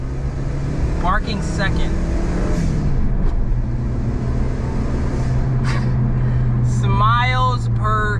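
A Suzuki Wagon R Wide car engine revving and accelerating on its first pull, a continuous loud motor drone with rising pitch, while people talk over it.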